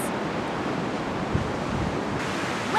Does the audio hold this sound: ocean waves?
yes